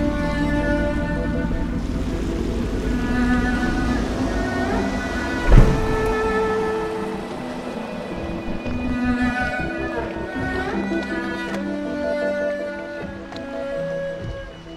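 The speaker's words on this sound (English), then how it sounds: "I should concentrate on piloting this boat." Sailing ambience from the video game Dishonored as a boat is piloted: a steady wash of water and wind under a sustained musical score, with one brief thump midway.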